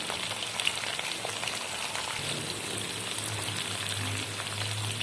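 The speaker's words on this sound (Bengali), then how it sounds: "ভালো করে আমি ভেজে নেব" Potato pieces seasoned with a little salt and turmeric fry in a pan, giving a soft, steady hiss and crackle like light rain. The sizzle stays fairly quiet and even throughout.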